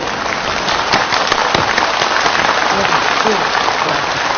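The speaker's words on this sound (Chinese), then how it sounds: "我们掌声有请" Studio audience applause welcoming a guest onto a televised interview with a Yue opera master: dense, steady clapping from a sizable crowd, loud and continuous throughout, with no talk over it.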